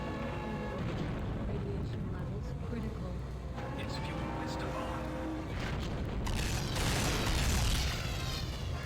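Missiles fire and explode in the 007 Nightfire video game, a steady run of booms and bursts over rumbling game sound, with game voices and music heard underneath.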